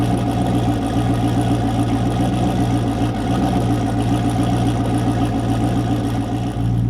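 A turbocharged 1028 hp Pontiac Trans Am street car's engine runs steadily nearby, a loud, even low rumble with a rough pulsing texture and no break, heard alone without voices.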